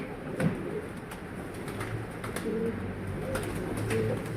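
Pigeons coo softly and repeatedly close by, with low rolling calls recurring throughout over faint background noise.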